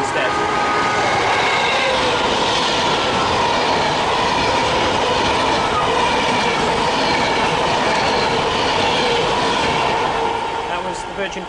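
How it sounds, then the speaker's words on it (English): A Virgin Pendolino passenger train passes close by with a loud, sustained roar of wheels and rushing air, steady rail clatter and faint squeal running throughout. "Oh, here's a Pendolino. That's much more exciting."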